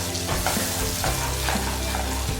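A spice masala with chili powder and coriander-cumin powder, for stuffed tondli, being stirred as it fries in a pan: a loud, constant sizzle with repeated scraping strokes of the spoon, up close and without talk.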